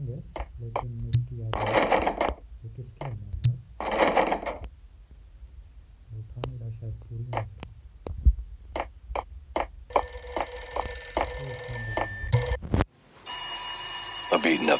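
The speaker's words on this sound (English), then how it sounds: "A beaten up phone in the entrance hall was ringing." An old, beaten-up telephone rings in an entrance hall in the Max Payne Mobile game, its trilling bell bursts arriving near the end after scattered clicks, thuds and other game sounds.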